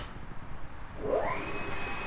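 A coin-operated car wash vacuum cleaner switches on partway through, its motor whine rising and settling into a steady, close, loud drone over the background noise.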